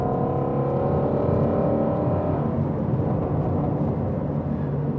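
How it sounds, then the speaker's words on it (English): A steady, deep engine drone with a low exhaust rumble from a Ford Mustang Shelby GT350R sports car holds throughout at an even, fairly loud level. "You guys can probably hear some of this exhaust noise that we're getting."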